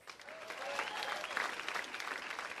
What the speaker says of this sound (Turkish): Çok derinden geldi alkış